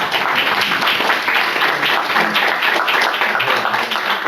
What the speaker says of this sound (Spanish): justo con un aplauso les vamos a regalar un